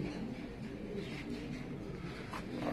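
Racing pigeons coo softly in a loft in Casablanca, low burbling calls repeating over a steady background hum, fairly close and moderately quiet.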